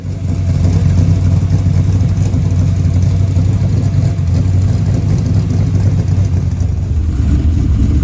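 Holden HQ Kingswood V8 with a 650 carburettor rumbles steadily while driving, a loud, close, continuous low engine drone that swells slightly near the end.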